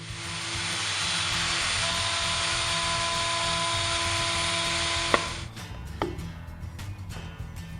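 A router makes a test cut for a fine dovetail joint on a Baladonia dovetail jig, a loud steady high whine running about five seconds, then cutting off with a sharp click and a few clattering knocks as it spins down.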